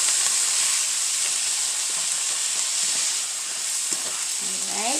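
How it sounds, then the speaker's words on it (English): Garlic, more than a tablespoon of it, sizzles steadily in a hot pan for a low-sodium Chinese-style vegetable curry, a close and constant frying hiss with soft stirring clinks and a brief scrape near the end. "So I put more than a tablespoon of garlic. Now let's saute it."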